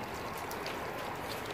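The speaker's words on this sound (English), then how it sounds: "They have like a little fire hydrant as a water fountain." Water runs from a small drinking fountain shaped like a fire hydrant, a soft continuous trickling stream heard faintly and alone for a brief moment.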